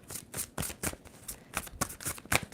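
A tarot card deck is shuffled in a series of quick riffling bursts, about eight crisp flurries of card noise close to the microphone, with no speech.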